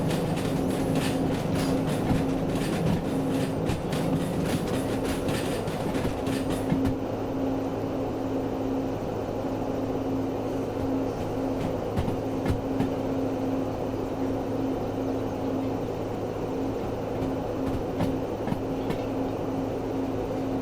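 An electric locomotive rolls along rails in the train simulator game Derail Valley, in fog, a steady rumbling run with rhythmic wheel clacks and a sustained electric hum, alone without talk.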